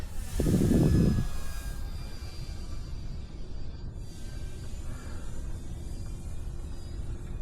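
An E-flite Turbo Timber Evolution RC plane flies touch-and-goes over water with its flaps up. A motor whine slides in pitch as it passes over steady outdoor rumble, after a brief low thump at the start.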